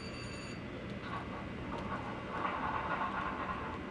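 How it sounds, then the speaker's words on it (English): An HO scale model train led by a BNSF SW1500 switcher runs along the track of a traction reverse loop module, giving a steady low rumble with faint clicking that swells slightly toward the end. "the train coming in right now."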